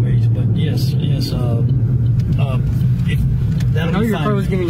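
A car engine hums low and steady while driving, a constant close rumble under ongoing conversation between people inside the vehicle.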